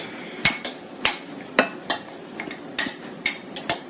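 A utensil clacks against a bowl while buffalo cauliflower batter is mixed, a dozen or so sharp irregular knocks close up, alone without talk.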